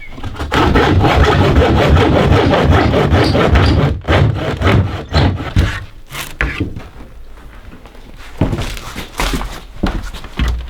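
A hand saw cuts through three stacked layers of wood at a small cabin, making loud, rapid rasping strokes for several seconds, then slower, scattered scrapes and knocks with pauses between them.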